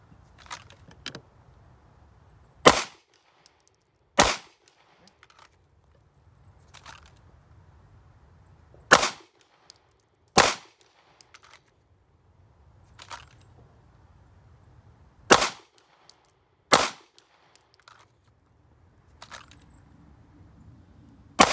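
Pistol shots fired during a Dot Torture drill at 5 yards, loud sharp reports coming singly and in pairs with pauses between strings, over quiet background shuffling.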